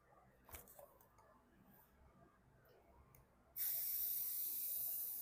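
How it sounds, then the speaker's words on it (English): Quiet rustling and faint clicks give way to a sudden, loud, continuous hiss from a spray paint can spraying plastic Halloween decor, holding to the end. "So I'm going to try to spray paint it."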